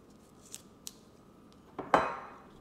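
Blade or scissors slicing into the packaging of a WD Black M.2 NVMe SSD, with two faint light ticks followed by one sharper, louder cutting snap that rings briefly, close by in a quiet room.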